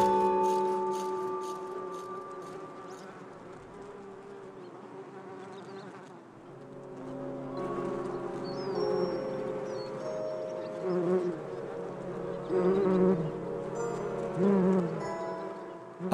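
Honeybees buzz steadily among olive trees in African woodland, a continuous droning hum with several insects close by, rising and thickening toward the end.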